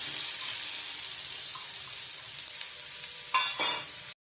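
Onions sauté in a pan with tempering spices and curry leaves for a Gujarati potato curry, making a loud continuous close sizzle, then a couple of quick stirring clatters before an abrupt stop.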